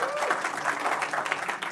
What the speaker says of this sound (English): Now let's give the applause to him